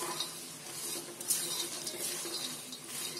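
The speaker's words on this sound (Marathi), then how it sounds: "शेंगदाणे असे चांगले भाजून घ्यायचे." Peanuts dry-roast in a pan while being stirred, producing faint, close scraping and soft rattling over a quiet background hiss, with one brief sharper clink partway through.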